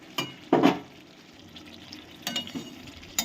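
Chicken pieces being stirred and fried in a pan for Bengali chicken kosha, a few scraping stirs against a soft, steady sizzle, close and fairly quiet with no voices.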